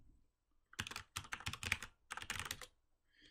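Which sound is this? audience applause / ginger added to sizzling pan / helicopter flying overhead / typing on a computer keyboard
typing on a computer keyboard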